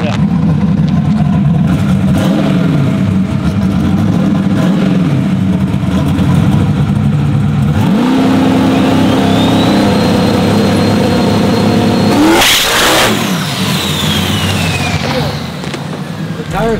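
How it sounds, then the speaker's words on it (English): A 2000-plus horsepower turbocharged truck does a light burnout at a night test-and-tune event, its heavy engine roaring and revving continuously and loudly, with a rising whine and a sharp burst near the end, crowd talk underneath. "they asked for a light burnout"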